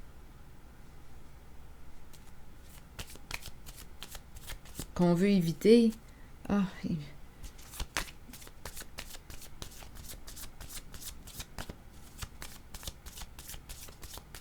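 A deck of playing cards is shuffled repeatedly, giving a string of sharp riffles and snaps close by. A voice speaks briefly partway through.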